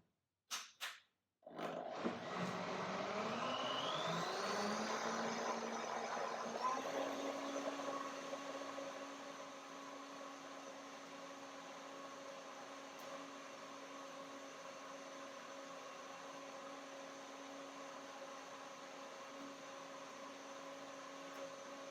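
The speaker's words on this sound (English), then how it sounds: "I can blend longer and longer to make it even warm." A high-speed blender blends soaked cashews and banana into cardamom-cinnamon milk. The motor spins up with a rising pitch, then settles into a loud, steady whirring roar that runs uninterrupted for about twenty seconds.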